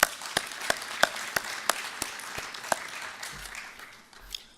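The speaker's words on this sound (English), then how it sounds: "Could I have a round of applause for all of those" A small audience at a business talk claps sparsely, with distinct, separate hand claps spaced out over a quiet room that then fade away.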